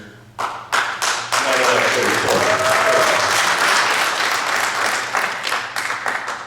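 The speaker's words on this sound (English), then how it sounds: "Please don't clap." A debate audience bursts into clapping after a few sharp first claps, a sustained loud round that slowly thins out, with a voice briefly audible beneath it.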